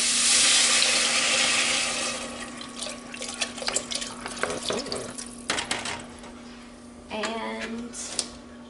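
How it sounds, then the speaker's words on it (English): Soup stock pours into a pot of cooked carrots and onions, a loud rushing stream at first, followed by clinks and knocks of kitchenware and a brief second pour. "I'm gonna add my soup stock."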